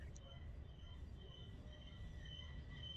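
Freight train with lumber cars rolling past at Cajon Pass, a steady low rumble of wheels on rails with faint metallic squeals, continuous and fairly distant.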